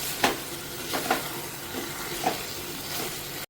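Chicken sautéing with green masala paste in a pan, a steady sizzle broken by a few scraping stirs of the spatula.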